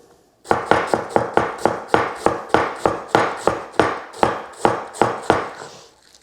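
Meat cleaver chopping through cabbage on a cutting board for coleslaw: about fifteen sharp, evenly spaced thuds in a steady rhythm, close and loud, with no talking.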